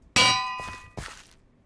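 A damaged anvil in a video game lands with a bright metallic clang that rings out, followed by a second softer clank, loud and alone without voices.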